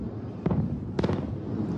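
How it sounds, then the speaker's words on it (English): Rocket and missile fire along Israel's border with Lebanon at night, heard as two dull, distant booms about half a second apart over a low, constant background rumble. "The distant boom of missiles heralding a new and incredibly dangerous moment in the Middle East."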